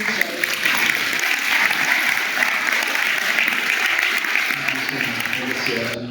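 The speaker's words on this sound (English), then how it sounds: "can we give them a round of applause" An audience in Victoria Hall, Oakham, claps at a community dementia event in a loud, sustained round of applause, with a little talk rising near the end.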